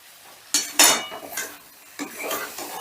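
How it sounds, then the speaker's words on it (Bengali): Fried chicken tipped into masala in a pan, with two sharp clattering bursts as the pieces land and are stirred, followed by lighter scraping and a faint sizzle; no speech. "দিয়ে দিলাম ভেজে রাখা চিকেন"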